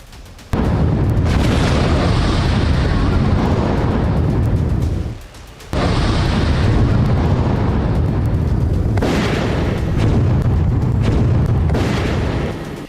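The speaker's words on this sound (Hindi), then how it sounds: "बेरूत के उपनगर दहिया में आईडीएफ ने इतनी बमबारी की जिससे हिजबुल्लाह की सुरंगें तबाह हो गईं।" Bombardment explosions in Dahieh, a suburb of Beirut, produce a heavy, rumbling roar of blasts that lasts for seconds at a time. A brief drop occurs before the booming resumes, loud and close, with no talk.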